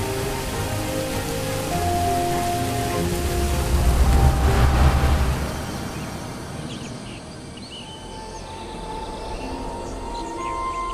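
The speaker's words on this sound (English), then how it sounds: "this red rain has fallen upon such an assembly of relations" Red rain falls in an animated telling of the Buddha's life, a dense, steady hiss of drops that swells midway and then eases, with faint sustained musical tones beneath.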